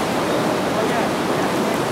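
Steady broadband rush of the Newhalen River flowing on a fishing evening near Iliamna, a continuous close water roar with no breaks and no voices over it.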